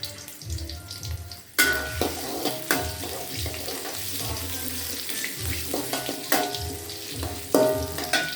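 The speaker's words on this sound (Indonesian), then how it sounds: "Saya goreng dulu kunyit jahenya." Turmeric and ginger frying in a pan for a milkfish sour soup, a steady close sizzle that surges as ingredients hit the hot oil, with scraping stirs and clatter.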